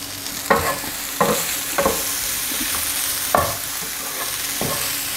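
Potato samosa filling with fresh coriander and green chillies being stirred in a pan, a spoon scraping in several separate strokes over a steady soft sizzle, close and clear with no talking.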